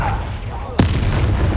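Confringo, a fire spell in Hogwarts Legacy, hits with one sharp, loud blast after a brief rushing buildup, followed by a sustained rumbling boom amid dense game noise.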